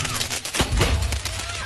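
A bombshell firecracker explodes during New Year celebrations in Asturias, Cebu, going off in someone's face: a dense, loud crackling barrage of close blasts with a heavy low thump, mixed with faint voices.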